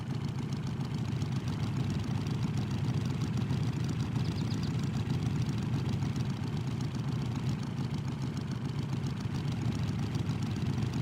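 A video game vehicle engine cruises along quietly, a low steady rumble holding an even, unchanging drone from start to finish with no voices.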